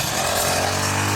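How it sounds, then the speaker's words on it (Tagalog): A grass cutter cutting grass, its motor a loud, steady, close buzzing drone that fills the whole moment without talk. "Bilis ang trabaho pag nag-grass cutter, ano?"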